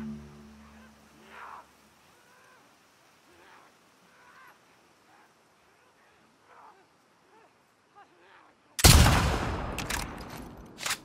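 A rifle shot in The Last of Us Part 2 cracks out loudly near the end and rings out with a decaying tail after a quiet stretch of faint distant sounds.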